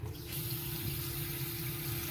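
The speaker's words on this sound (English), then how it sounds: "let's get the water pumped out of the main tank." Fresh water being pumped from a boat's main tank and running into the sink, a steady broadband rush with a low pump hum underneath, continuous and fairly loud throughout with no talk.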